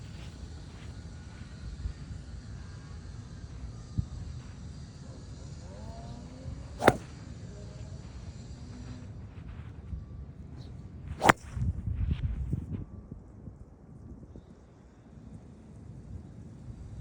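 A golf driver strikes the ball on a par 3 hole outdoors, two sharp isolated whip-like cracks standing out against a quiet breezy background.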